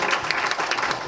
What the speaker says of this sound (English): So let's give Liz another round of applause.